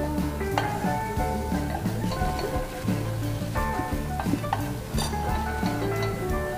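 Oil and half a tablespoon of butter sizzling in a frying pan while cooking tekwan, a steady close crackle with repeated clinks and scrapes of a utensil stirring against the pan.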